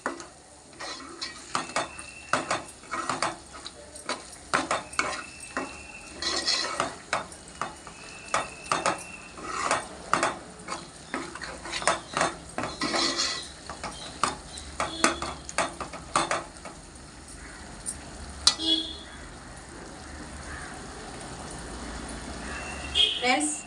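Half a kilo of raw prawns stirred into a simmering masala in a cooking pot for a Telugu-style prawn curry, with repeated scraping and clinking of a metal spoon against the pot over a soft sizzle, while someone talks.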